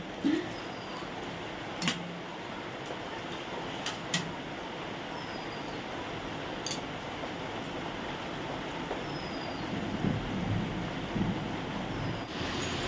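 Rain falls steadily outside a house as a dense, even hiss, with a few sharper drips and taps scattered through it and no voices.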